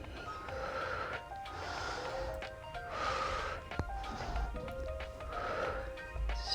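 Rhythmic breathing in and out during a pilates leg, glute and core exercise, with broad airy inhales and exhales repeating about every one and a half seconds over a faint background hum.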